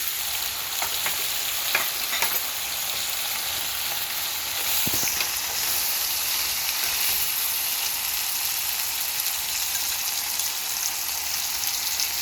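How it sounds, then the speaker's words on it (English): Deep-fried lobster and peppers stir-frying in a hot pan give a steady, close sizzle that keeps up without a break, with a few faint clicks from stirring. "we're gonna put in all the lobster that we just deep fried"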